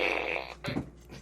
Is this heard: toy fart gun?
yes